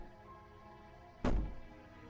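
One dull, heavy bang against a wooden door in the horror game Slay the Princess, a sudden close thud that fades quickly against a low, steady ambient hum.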